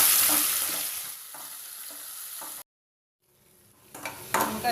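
Tomatoes frying and being stirred in a pan while cooking drumstick leaf dal: a steady broadband sizzle with soft scraping strokes, cutting to near silence midway before the frying resumes with louder stirring bursts.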